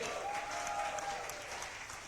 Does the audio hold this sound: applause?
yes